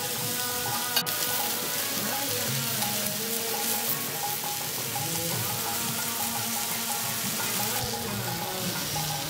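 Pineapple pieces sizzle and fry in a pan for grilled pineapple, a steady, dense crackling hiss that continues evenly throughout with no talking.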